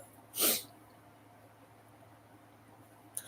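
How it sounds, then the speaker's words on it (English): A single sharp sneeze near the start, loud and close, followed by quiet room tone and a faint click near the end. "I need to sneeze or blow my nose"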